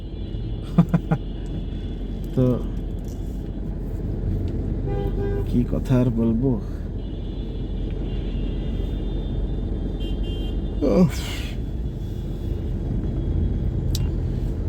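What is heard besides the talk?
night traffic jam in Dhaka, cars honking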